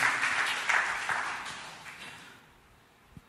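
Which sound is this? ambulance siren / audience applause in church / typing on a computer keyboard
audience applause in church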